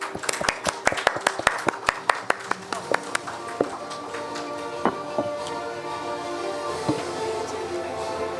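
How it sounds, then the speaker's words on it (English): An audience at a healthcare awards ceremony claps in sharp, scattered bursts that thin out and fade over several seconds as a voice speaks over them. "जोरदार तालियां हो जाए सर के लिए."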